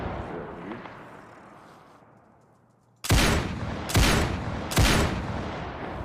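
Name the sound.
gunfire from the video game DayZ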